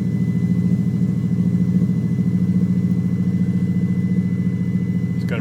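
A 1993 Subaru WRX GC8 idles with a loud, steady, deep rumble through a 3-inch exhaust and Megan Racing muffler, its low pulsing drone even and unbroken throughout.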